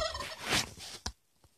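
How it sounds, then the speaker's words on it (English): A turkey gobbles in one loud rattling burst that fades out, followed by a short fainter call, with no voices. "The turkey likes to eat seeds and grains."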